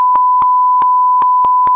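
Censor bleep tones masking a spoken mobile phone number, a steady pure beep broken into five or six short bursts in an irregular rhythm, loud and alone with no voice audible.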